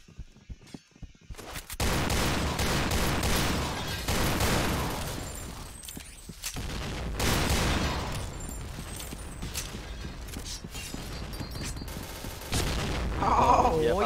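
Gunfire in the video game Point Blank comes in dense, rapid bursts and sharp booming shots that ring loudly across much of the stretch, with mechanical clatter and a voice speaking in between.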